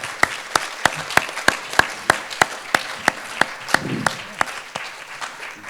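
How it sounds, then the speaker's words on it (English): Audience applause for board candidates at a candidate forum, heard as steady clapping with regular sharp claps standing out, moderately loud and sustained throughout. "now it's time to applaud our candidates"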